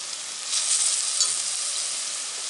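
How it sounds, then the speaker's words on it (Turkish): Grated carrots for a yogurt carrot salad fry in a pan with a loud, steady, close sizzle that swells briefly and then holds evenly. "havuç kavruldu"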